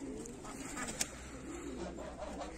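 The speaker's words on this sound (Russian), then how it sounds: "Приехали ко мне голуби." Pigeons, including white birds, coo softly in a loft, a faint low murmur under a steady background hiss, with one brief sharp click partway through.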